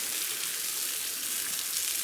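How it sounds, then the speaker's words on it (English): Loud, steady sizzling of a tomahawk steak searing on a hot wood-fired grill, a dense crackling hiss close up with no pauses. "Listen to that sizzle."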